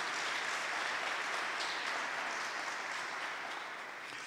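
A church-style audience applauds in a steady, even wash of clapping from many people, heard at a distance and fairly soft, tapering slightly near the end without voices.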